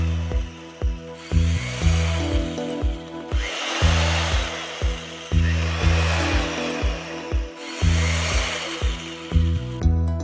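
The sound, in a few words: drilling small holes into ceiling joist with drill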